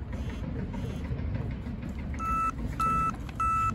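A Dexcom G6 glucose receiver sounds three short, evenly spaced electronic alert beeps, fairly clear over a steady rumbling background noise.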